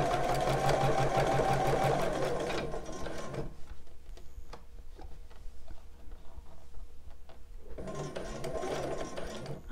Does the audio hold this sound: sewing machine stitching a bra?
yes